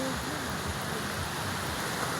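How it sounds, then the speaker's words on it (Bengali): Ocean waves roar at the seashore as a dense, unbroken roar that stays even and fairly close throughout the short stretch, with no speech over it. "সমুদ্রের গর্জনটা শুনতে পাচ্ছেন আপনারা সবাই, দেখেন কেমন।"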